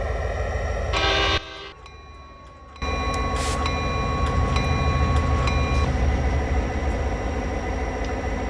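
A passing freight train on a Norfolk Southern coal district route in a train simulator game: a loud, steady rumble of wheels and cars with a brief horn blast early on and a short dip before the rumble returns.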